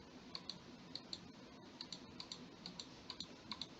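Single left mouse clicks while trimming a dental model with a lasso select tool in software, sounding as light, sharp paired clicks repeating every half second or so over a faint room hiss, close and quiet.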